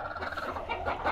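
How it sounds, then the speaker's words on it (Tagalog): A turkey gobbles close by in a backyard, one short rapid warbling burst that fills the moment, loud and near. "Pabo."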